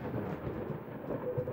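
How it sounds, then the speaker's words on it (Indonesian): Thunder rumbles in the video game Coffee Talk, a steady low, dense roll with a rain-like wash filling the short stretch, loud and continuous without any talk. "Ada petir-petirnya segala."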